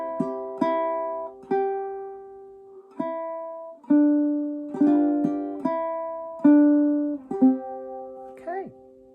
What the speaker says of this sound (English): So if I play through from the last 2 notes of the penultimate line,